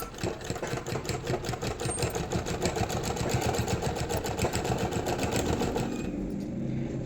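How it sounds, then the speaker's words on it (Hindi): A sewing machine stitches elastic onto a woolen bed sheet, its needle hammering in a fast, even rhythm for about six seconds before slowing to a stop, close and clear with no talking. "तो ये आप देख सकते हो लास्टिक के ऊपर सिलाई लग रही है"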